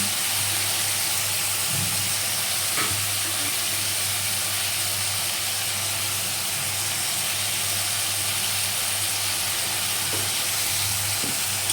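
Steady sizzling of moong dal frying with potatoes in a hot pan, a continuous crackling hiss with an occasional clink of a utensil, no talking.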